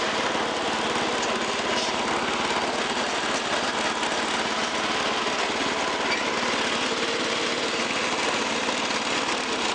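A 1986 Toro 11-32 riding lawn tractor engine runs steadily up close, a constant buzzing drone without pauses or voices.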